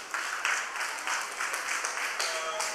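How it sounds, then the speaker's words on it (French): Students in a classroom applaud during a school book presentation, a moderate, steady patter of many hands clapping at once, fairly soft and continuous for a few seconds. "Applaudissez pour vous-même."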